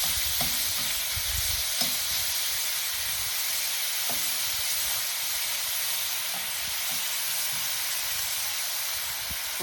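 Ground beef browns in a heavy-bottomed pan for beef stroganoff, giving a steady, close sizzle with frequent scraping and stirring clicks from the spoon, heard alone with no talking.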